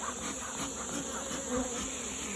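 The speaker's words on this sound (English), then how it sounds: "I've just gotten all these bees in there." Honeybees in a flea-market hive drone with a close, steady buzz, small swells in intensity coming and going over a continuous hum, with no voices.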